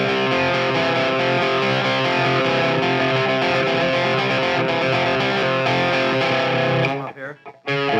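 Electric guitar notes picked with a light, gritty distortion, ringing steadily and close, then cutting off near the end.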